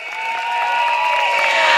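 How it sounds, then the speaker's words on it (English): A crowd at a PAP election rally for Sengkang GRC applauds and cheers for the media and camera crew, a steady swelling wash of clapping and voices building louder through the clip. "Let's give them all a round of applause"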